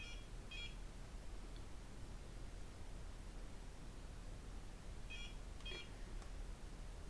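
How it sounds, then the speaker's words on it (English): A microcurrent facial device beeps faintly twice, briefly, over a steady background hiss, with a short pause between the two pairs. "We go up and hold until we hear the beep"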